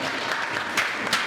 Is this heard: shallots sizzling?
no